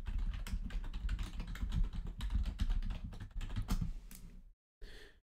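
Rapid clacking keystrokes on a computer keyboard as a command is entered, a steady close burst of typing that stops briefly near the end before one last short tap.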